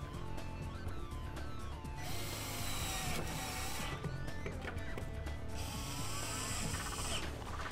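Four self-tapping screws are driven to mount a 7-pole trailer connector on a 2010 Dodge Ram, giving close, steady mechanical whirring and ratcheting with brief louder bursts as each screw bites in.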